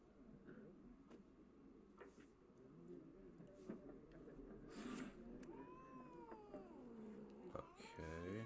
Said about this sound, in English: that cat does not like me right now. They growling at me like crazy.